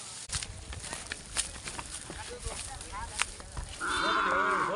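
Cattle at a traditional village bull race festival, with shuffling hooves and footsteps, crowd noise, scattered lowing and one clear sustained moo at the end.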